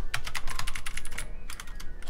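Someone types briskly on a white mechanical keyboard with blue switches. The clicky keystrokes come in a quick, close, loud rhythm with a short pause before the run continues.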